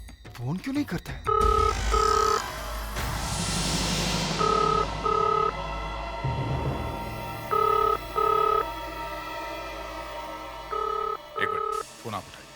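A landline telephone bell rings in repeated double bursts through an indoor scene, loud and clear, with people talking and background music between the rings.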